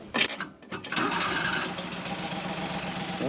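A Predator 670 engine fitted to a skid loader, choke pulled, cranks briefly and catches about a second in, then settles into a steady, loud running drone close by.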